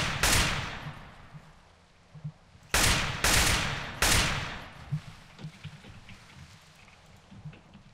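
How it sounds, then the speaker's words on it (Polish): Four loud, sharp gunshot bursts ring out around a base in the game MTA San Andreas DayZ, each with a decaying echo, followed by fainter distant shots and crackles. "No, strzały dookoła bazy, słyszę fajnie."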